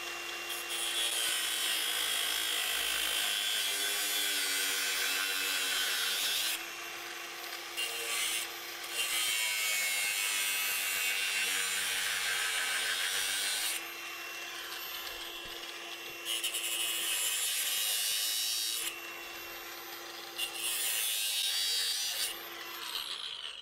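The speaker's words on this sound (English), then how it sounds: "come in here with the cutoff wheel and slot this thing to see if we can relieve some of the pressure off of it" A cutoff wheel grinds a slot into a Chevrolet Blazer rear axle bearing, a harsh, loud high-pitched whine in several long bursts with short pauses between passes, close up.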